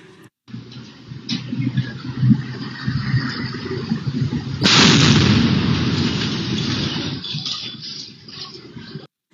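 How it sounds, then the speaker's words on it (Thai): Steady street noise and traffic rumble in Pattani city, Thailand, suddenly overtaken by a loud, sustained bomb blast that roars on for several seconds before fading. "นี่คือวินาทีที่เกิดระเบิดกลางเมืองปัตตานีเลยนะคะ"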